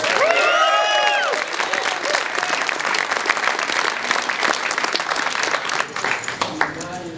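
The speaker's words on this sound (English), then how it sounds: "Let's welcome with a nice round of applause, Sven Eichenbauer." A large audience at a poker tournament final table bursts into sustained applause with scattered cheers, loud and steady throughout, over a music cue at the start.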